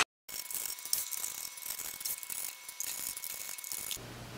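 Screws being backed out of the metal case of a Hikvision 7600 series NVR, giving a steady close ratcheting, clicking rattle of a driver for about four seconds, with no talk.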